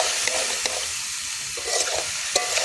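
Peas lightly sautéing for chicken keema ghugni in a pan, a soft continuous sizzle with occasional scraping strokes of a spatula, close and fairly loud, with no talking.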